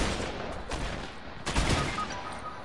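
Dense rapid gunfire fills a multiplayer shooter match, with a heavier blast near the middle standing out from the steady crackle of shots, moderately quiet with no clear voices.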